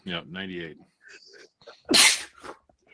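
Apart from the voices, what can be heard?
sneeze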